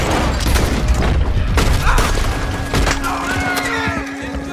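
Close, loud gunshots in a Red Dead bounty hunting shootout, several sharp cracks and thuds scattered across a busy game soundscape.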